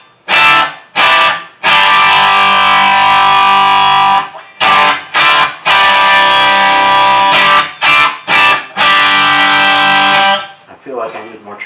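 A distorted electric guitar plays through a pedalboard with reverb and delay switched off, loud sustained chords cut into bursts separated by abrupt dry silences.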